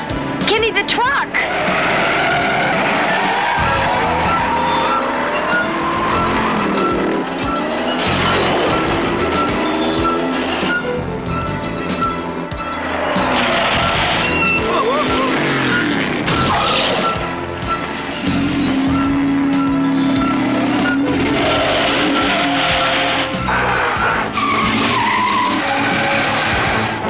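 Tyres screech as a car is swung round in a handbrake turn, with revving engine and rumbling under excited voices talking and shouting throughout, loud and close across a long stretch of action.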